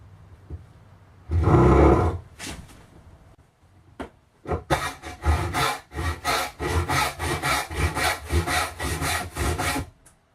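A hand saw rasps through wood, a long stroke followed by a pause, then quick rhythmic back-and-forth strokes, close and loud.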